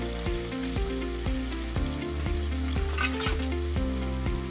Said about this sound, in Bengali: এবার আঁচটা একটু বাড়িয়ে দিন যাতে ভালো করে ভাজা হয়।